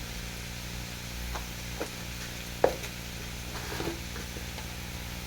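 Shredded cabbage fries in a pan with sugar, turmeric and salt, giving a continuous low sizzle and hiss, with a few scattered clicks and scrapes of a spatula, one sharper knock standing out partway through.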